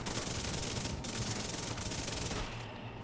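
High-RPM gun in a shooter video game, rapid continuous gunfire packed into a dense buzzing stream with two brief gaps, then cutting out near the end.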